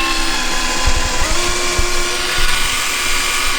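A power drill grinds steadily through a spot weld on a BMW E36 front-end bracket, a continuous close whine with no talk over it.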